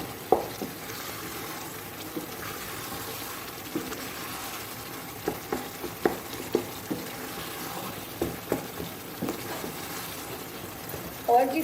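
Mutton karahi cooks in ghee over high heat in a pan, giving a steady low sizzle and frying hiss. Scattered clinks and scrapes of stirring come up close, loudest toward the end.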